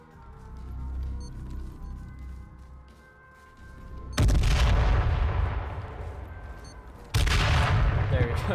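A grenade blast and gunfire in the video game H1Z1 on PS4: low game ambience, then two loud, sudden explosive bursts of rumbling noise, the second cutting in a few seconds after the first.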